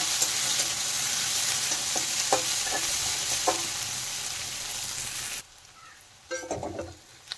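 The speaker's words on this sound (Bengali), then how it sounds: "এখন মশলাগুলো হালকা ভেজে নেব।" Chopped onion, green chillies and spices frying lightly in oil, a loud steady sizzle with a few spatula scrapes for about five seconds, then a sudden drop to quiet with brief stirring clatter near the end.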